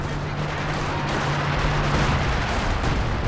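Paired howitzer artillery in a Company of Heroes 2 multiplayer match, as a dense, rumbling barrage of booms and gunfire with a steady low drone, loud and continuous, and a voice briefly comments over it.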